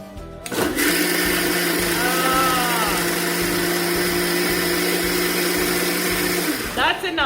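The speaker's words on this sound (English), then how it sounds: "I'm gonna blend it." Electric blender whirring steadily as it blends mango lassi, a loud continuous motor drone with a strong steady hum, starting abruptly and cutting off near the end.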